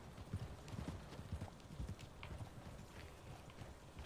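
Horse hooves clip-clop in a quick, uneven rhythm in Red Dead Redemption 2, fairly quiet and close, with a faint murmur of game background behind them.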